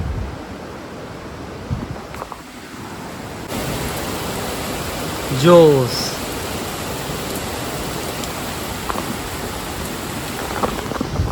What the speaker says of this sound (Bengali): বৃষ্টিটা সেরা হইতেছে, আপনাদের দেখাই।